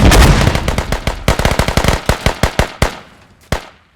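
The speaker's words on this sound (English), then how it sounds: "It just feels so claustrophobic in there with all the smokes, nades going off bodies everywhere." Rapid bursts of gunfire in a military video game ring out close and loud, a fast rattling volley that slows into spaced single shots with a final lone report.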